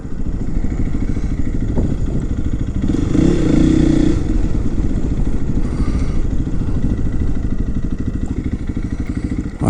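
Motorcycle engine droning steadily and loud throughout, heard from a Honda CRF 300L on a road ride, with a brief swell of passing bike noise midway and no talk.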